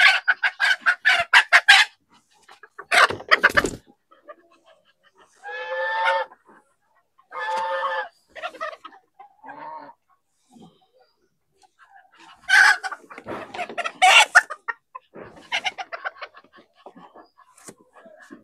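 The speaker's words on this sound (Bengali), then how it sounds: "হাঁসের ঘরে মুরগি ঢুকিছে" Chickens inside a duck house cluck and call close by, with bursts of harsh cackling, a few drawn-out crowing notes in the middle and scattered clucks between short quiet gaps.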